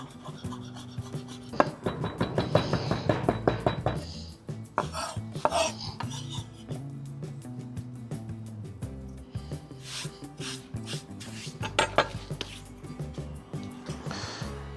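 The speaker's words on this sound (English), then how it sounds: "I'll just run the knife through and chop it a little bit finer" A knife chopping fresh thyme on a cutting board, close rapid rasping strokes and taps in uneven bursts, with scraping and rubbing between them.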